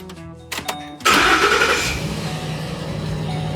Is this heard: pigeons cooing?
no